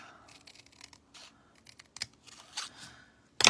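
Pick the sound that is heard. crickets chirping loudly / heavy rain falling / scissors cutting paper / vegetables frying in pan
scissors cutting paper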